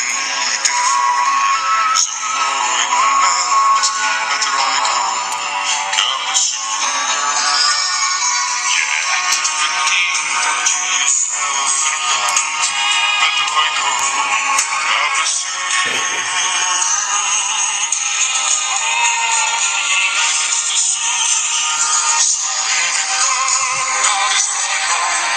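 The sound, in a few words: Cup a Soup ringtone playing on a phone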